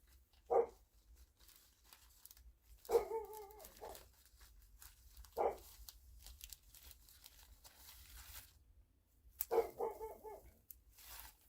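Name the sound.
dog barking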